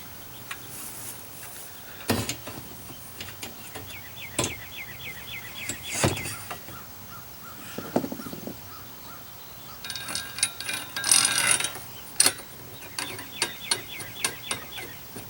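A Beast Gear drum stand and stick holder being handled, giving scattered metallic clanks, clicks and ratchety rattles at close range, some sharp and isolated, others in brief clustered bursts, with quiet gaps between.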